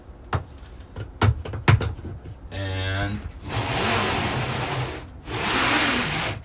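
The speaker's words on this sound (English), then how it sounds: "the door just slides like that" A sliding door on a Grounded G3 Zevo 400 camper trailer rolls along its track in one smooth rumbling pass, followed by broad whooshing noise and a brief spoken word nearby.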